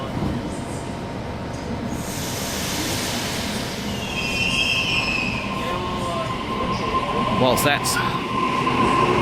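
A Sydney train set arriving at Chatswood station platform at night, a steady loud rumble of rail wheels with high squeals and brake hiss building toward the end, a voice speaking briefly over it.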